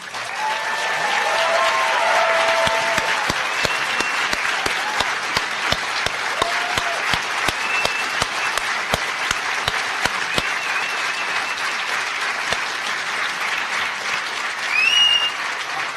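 A large conference crowd gives sustained, loud applause for a speaker, with dense clapping that swells early, then thins into scattered claps and a few whistles toward the end.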